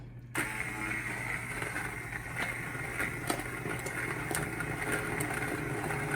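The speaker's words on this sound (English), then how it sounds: "So now we're going to use our favorite tool, the immersion blender." An immersion blender whirs on its low setting in a pot of softened vegetables for cheesy macaroni, starting abruptly and holding a steady motor drone with small clicks and knocks against the pot.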